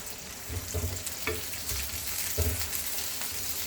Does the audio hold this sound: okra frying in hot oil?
yes